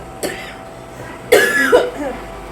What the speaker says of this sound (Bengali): ঠিক এখন কাশলাম